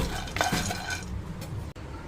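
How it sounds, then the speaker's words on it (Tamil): Peanuts dry-roasted over a low flame and stirred in a pan for a dates and nuts laddu, with clinks and scrapes of a spoon against metal and a light rattling of nuts, alone and fairly close. "ஐம்பது கிராம் அளவுக்கு நிலக்கடலை பருப்பு எடுத்திருக்கேன் நல்லா வறுத்துக்கோங்க"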